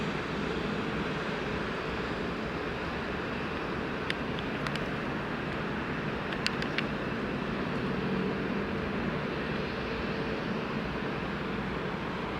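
Distant Frontier Airlines airliner taxiing toward runway lineup at an airport, a steady low engine rumble and broad hiss lasting throughout with a few faint sharp clicks, no talk.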